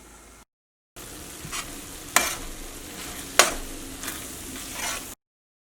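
Chicken and potato pieces sizzle steadily in a hot pan while a spatula stirs and scrapes through them, with several sharp clacks against the metal, close up and with no talking.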